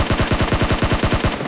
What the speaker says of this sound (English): Those shots are just way too far.